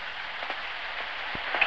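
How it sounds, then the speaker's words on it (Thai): Steady rain falls outside a house, a soft even hiss with a few faint drops tapping, fairly quiet and continuous with no voices. "ตอนนี้ฝนตกจ้า"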